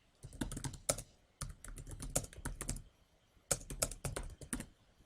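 Close, crisp typing on a computer keyboard comes in three quick bursts of rapid key clicks separated by brief pauses, with no talking.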